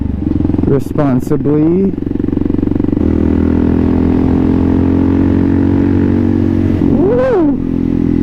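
A Kawasaki KLR650 single-cylinder motorcycle is ridden at high RPM, its engine a loud, steady close drone, with someone talking and whooping over it at the start and end.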